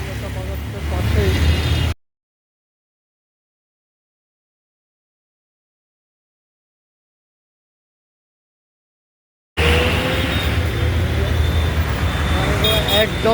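Engines rumble and traffic drones in a congested street by Kolkata Bazar, with a faint horn, voices and a long stretch of dead silence in the middle.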